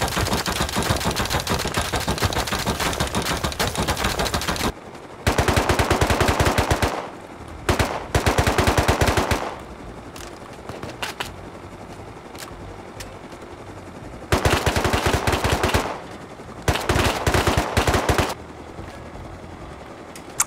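Loud bursts of rapid automatic gunfire in the video game Rust come in several sustained volleys separated by quieter stretches with scattered lighter shots.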